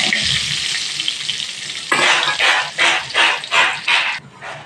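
Panch phoron seeds and two bay leaves frying in hot mustard oil, a steady close sizzle that turns into rhythmic bursts of stirring or spattering in the second half.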